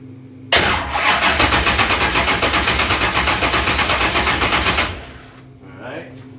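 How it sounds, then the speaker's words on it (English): A car engine cranks and fires after a transmission install in a project car, a loud close rattling turnover with rapid regular pulses lasting about four seconds before it cuts out, followed by faint voices. "Start it up, see how it goes."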